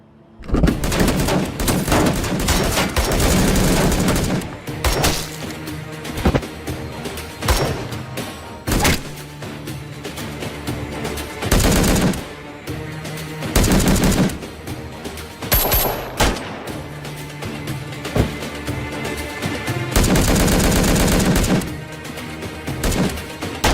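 Loud machine-gun bursts rip through a TV drama scene, long sustained fusillades broken by brief gaps, with sharp impacts and crashes between volleys.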